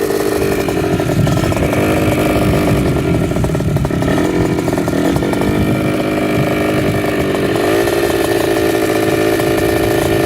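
A Kawasaki KX 65 two-stroke dirt bike fitted with an FMF Turbinecore 2 exhaust idles and revs up close, a loud buzzing, crackling engine note that stays steady with small throttle blips and a pitch shift near the end.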